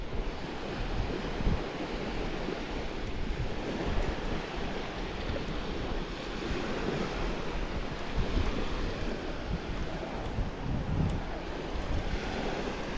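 Rough sea surf breaking on a beach at night, a steady loud wash of waves with wind buffeting the microphone throughout, no voices.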